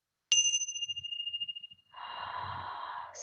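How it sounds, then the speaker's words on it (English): A meditation bell is struck once with a clear ringing attack and a long, pulsing decay. Then a second, steadier bowl-like tone sounds, with soft breathing and a sigh underneath. "Let the tones of the bells penetrate through your restlessness"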